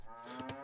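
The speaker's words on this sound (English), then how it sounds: "Another cow." A cow moos once in Clash of Clans, a short, clear bovine call standing alone with no talk over it.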